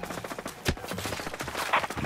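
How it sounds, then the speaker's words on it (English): Enemy gunfire in the tactical shooter Ghost Recon Breakpoint: a steady run of sharp shots and a heavier thump near the start, with close, dense crackling bursts over a busy background. "Hostiles are shooting."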